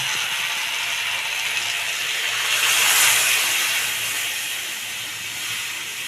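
Water poured into a hot pan of bitter gourd and eggplant for shukto sets off a loud, continuous hiss of steam that swells in the middle and slowly eases.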